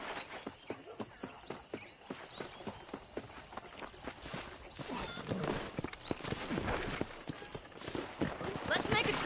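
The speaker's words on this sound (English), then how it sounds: "let's see if you can still ride a horse." Horse hooves clop along at a steady walking rhythm on a ranch in the video game Red Dead Redemption, clear and close, under a character's talking voice.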